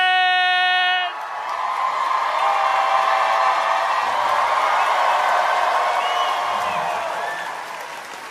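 A large crowd at a stand-up comedy show bursts into loud applause, cheering and whooping after a final note, the roar sustained and then slowly tapering.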